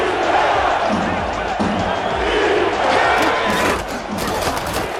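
A boisterous stadium crowd roars steadily at a night football semifinal, a dense wall of shouting and cheering that swells and dips slightly, with brief sharper peaks near the end.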